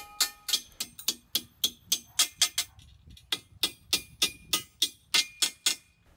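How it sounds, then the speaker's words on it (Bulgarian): Steel hammer blows drive anchor bolts into a drilled concrete hole, a rapid steady series of about twenty sharp, ringing metallic strikes, close and loud, with a brief pause midway. "Набиваме анкерите с чука до край."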